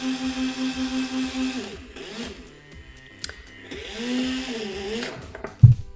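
Small hobby motor driven by an ultrasonic distance sensor whirs in pulsing bursts, drops away, then spins back up with a rising whine before a short clunk at the end; faint and close.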